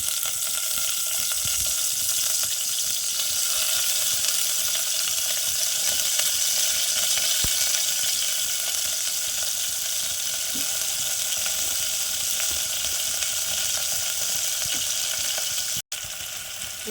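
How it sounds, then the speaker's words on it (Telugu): Dried prawns sizzle steadily in hot oil in a pan, a close, even crackling hiss with no talking. "నూనె కాగినాక ఎండు రొయ్యలు వేసుకోవాలరా"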